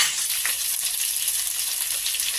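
Okra frying in a pan in a Bengali vegetarian dish as roasted cumin and coriander are tipped in, a loud, steady close sizzle with faint stirring and no voices.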